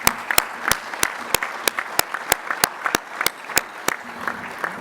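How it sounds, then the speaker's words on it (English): An audience at an agricultural export meeting applauds for the logistics staff, with sharp individual claps ringing out over a steady bed of clapping. "I'm going to ask you all to give a round of applause to our logistics people"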